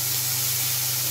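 Whole loitta fish fry in hot oil, a brief, loud, close, even hiss of sizzling with no talking.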